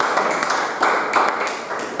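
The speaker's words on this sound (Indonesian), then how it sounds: "Kita beri plus tepuk tangan." Classroom applause from students, a short burst of dense clapping with uneven rhythmic swells, fairly close and loud, lasting about two seconds.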